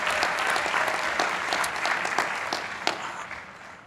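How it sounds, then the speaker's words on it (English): A graduation ceremony audience applauds, dense steady clapping that holds for a few seconds and then slowly thins out. "Give her a round of applause so you can find her."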